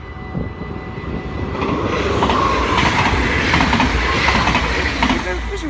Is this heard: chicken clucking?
no